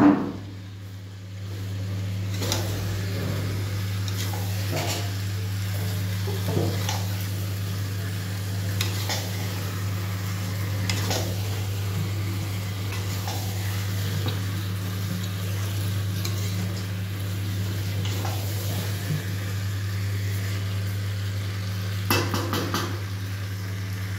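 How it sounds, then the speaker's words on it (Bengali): Potatoes fry in a pan under a steady low hum, with intermittent scrapes and clinks of a spoon stirring them, close and moderate, no voices. "এবারে আলুগুলো দিয়ে একটু নাড়াচাড়া করে নেবো ভালো করে"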